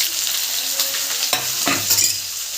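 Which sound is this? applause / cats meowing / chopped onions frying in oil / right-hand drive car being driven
chopped onions frying in oil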